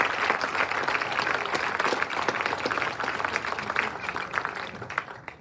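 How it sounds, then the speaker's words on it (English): Sustained applause from an audience at a Williston State Tetons athletics gathering, many hands clapping steadily at moderate level before tapering at the end. "let's give those 2 a round of applause"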